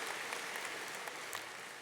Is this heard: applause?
yes